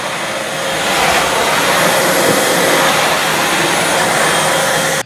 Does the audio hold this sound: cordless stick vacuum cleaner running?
yes